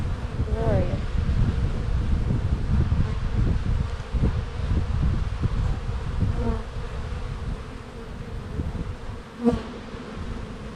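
Honeybees buzz steadily and close during a hive inspection, with a dense, continuous drone of many insects filling the whole stretch and a brief louder bump near the end.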